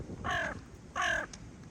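A large crow caws twice outdoors, two harsh, evenly spaced calls fairly close and clear against quiet background noise.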